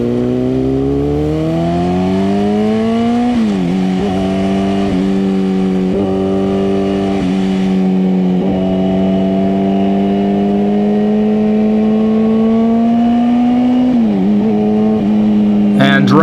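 A Kawasaki Ninja ZX-10R liter bike pulls hard in second gear, its engine note climbing in long rising sweeps with gear-shift dips, loud and close throughout.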